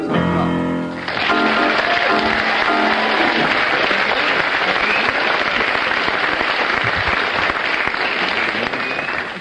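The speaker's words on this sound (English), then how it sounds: "according to the audience applause, you have a slight lead over Tim and Bill on that one" Radio comedy panel show studio audience bursts into loud, sustained applause after a brief opening moment, a dense wash of clapping that continues steadily to the end with no speech over it.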